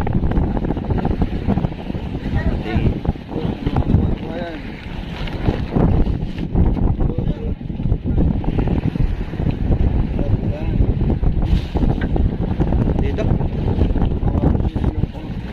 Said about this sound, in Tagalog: Oh, napakalakas ng hangin dito mga kasuyo.